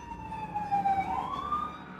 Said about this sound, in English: Let's wait a minute before the sirens go past